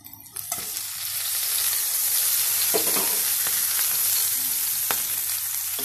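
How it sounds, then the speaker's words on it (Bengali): Ground chili, cumin, turmeric, salt and sugar fry with bitter gourd in a pan, giving a steady close sizzle with occasional stirring scrapes and no talking. "এরপর আমি এই গুঁড়ো মশলাগুলো দিয়ে দেবো, লঙ্কা গুঁড়ো, জিরে গুঁড়ো, হলুদ গুঁড়ো, নুন আর চিনি।"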